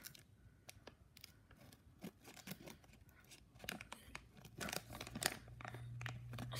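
Scissors snipping and crinkling through the plastic of a Harry Potter collectable wand blind bag, close up and quiet, with irregular cuts, rustles and crunchy tearing that grow louder toward the end.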